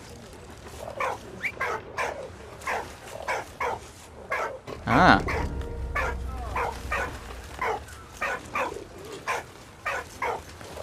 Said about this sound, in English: Oi, doggy. Leave the pigeon alone.